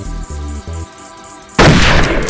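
A single loud, close gunshot fired at a soldier during weapon training in the Darkest of Days game, a sharp broadband blast that cuts in late over a low, rumbling game soundtrack.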